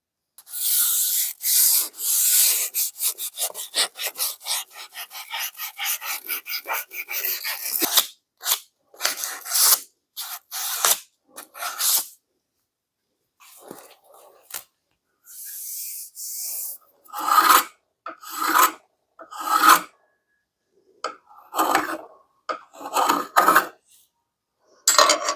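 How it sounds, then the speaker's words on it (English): A wooden axe handle is sanded by hand, with quick rhythmic rasping strokes at first, then slower separate scrubbing passes broken by short pauses, close and crisp. "I'm going to come back and sand those areas lightly"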